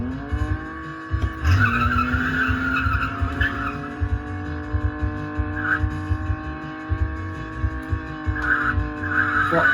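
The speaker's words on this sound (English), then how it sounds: "So I'm still skidding, even though I'm not even on the accelerator." Arcade racing game Chase H.Q. car skidding, a steady synthesized tire screech over a droning engine tone, loud and continuous for about ten seconds with brief squeal bursts, no talking.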